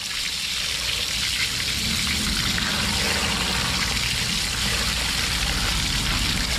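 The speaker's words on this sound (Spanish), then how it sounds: "Tírele agua a toda esa parte de ahí." Water pours and splashes steadily over part of a boat, a continuous hissing rush with dribbling and trickling, close and unbroken throughout with no talk.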